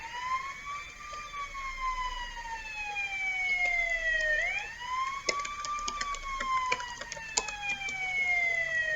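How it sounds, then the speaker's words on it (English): Wailing police sirens sweep up and down in pitch, with a second siren layered over the first, growing louder as they draw near, with brief clicks and knocks. "You hear that some police sirens are coming your way."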